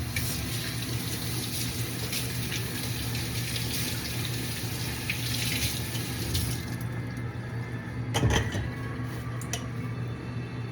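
A kitchen faucet runs steadily while hands are washed after making strawberry cheesecake balls, a close, even rushing hiss that lasts throughout with slight splashes near the end and no talking.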